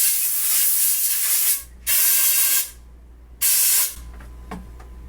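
Contact cleaner sprays from an aerosol can into a motorcycle front fork tube during suspension cartridge work, three loud sustained hissing bursts separated by short quiet gaps.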